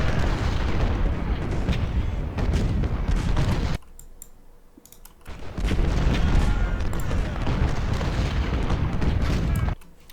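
Loud, continuous booming Civil War cannon fire and explosions in the video game Ultimate General: Civil War, rolling blasts that briefly drop away before resuming.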